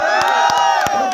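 A crowd cheers loudly at a lively public gathering, with overlapping shouts and whoops and a few sharp bursts that may be claps or whistles, all close and sustained.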